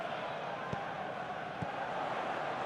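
A steady stadium crowd roar from a PES 2021 football match, a broad, continuous wash of noise with a couple of faint thuds, and no clear separate applause.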